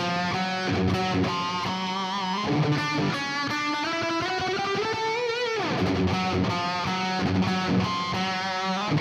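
Distorted electric guitar plays the bridge of a song, a sustained heavy rock riff with a long rising bend that drops away, then chugging chords resume, loud and continuous with no talking.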